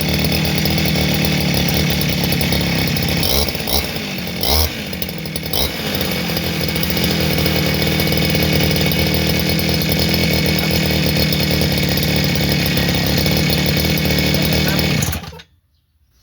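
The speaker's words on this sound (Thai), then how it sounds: "สำหรับวิธีสตาร์ทเครื่องยนต์ เครื่องตัดหญ้านะครับ" A small two-stroke brush cutter engine (RBC-411) drones loudly and steadily at close range, with a brief throttle change midway, then cuts off abruptly near the end.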